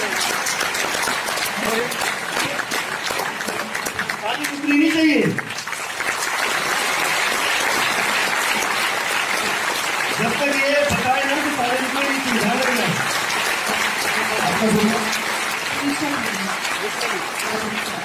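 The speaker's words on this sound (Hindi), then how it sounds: "एक बार ताली बजाने के लिए" An audience at a business gathering applauds steadily for a long stretch, a thick continuous patter of hands, while a voice and cheers break through at moments.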